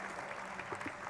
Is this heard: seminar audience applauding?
yes